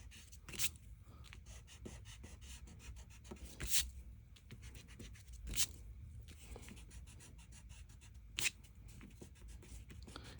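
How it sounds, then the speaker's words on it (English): An eraser rubs over pencil lines on paper in a one-point perspective name drawing, giving repeated short scrubbing strokes close up with a few sharper rubs standing out and no talk. "then you're going to erase the lines inside"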